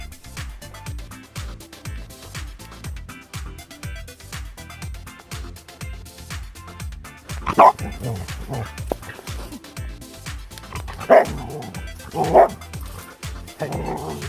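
An ornery dog on the Ice Age Trail's Holy Hill segment barks and yips in rapid repeated bursts close by, with a few sharp louder yelps and whimpers, while a person speaks briefly in between.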